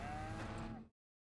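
Dairy cows in a Farming Simulator 25 barn moo in a drawn-out, fairly loud call lasting just under a second, alone and then cutting off to silence.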